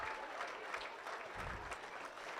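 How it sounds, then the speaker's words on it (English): Brief applause from the crowd at a 4-H market hog show at a county fair, a steady patter of many hands clapping in a large open barn space, moderately loud and uninterrupted. "Let's give all our exhibitors out here in the final drive and those back in the barn a round of applause."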